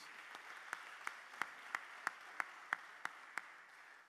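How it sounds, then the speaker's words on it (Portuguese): A church congregation at a family service claps in a steady, even rhythm, about three beats per second, faint and distant with no talking over it. "Você pode aplaudir a Jesus pela vida deles?"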